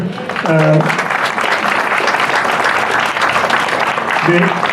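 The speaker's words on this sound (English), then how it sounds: "applause for our faculty around here" Loud audience applause for faculty at a wine business institute anniversary event, continuous clapping with a voice speaking briefly at the start and again near the end.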